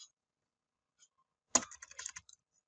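A short burst of computer keyboard typing: a quick run of close, crisp key clicks after near silence, ending with a couple of separate taps.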